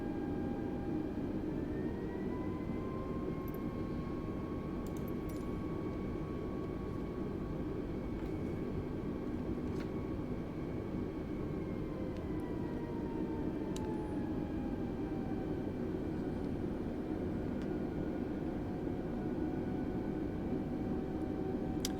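An Airbus A320neo rolls for takeoff in Microsoft Flight Simulator 2020, its engines holding a steady, loud roar with whining tones that slowly shift in pitch over about twenty seconds, with no talk.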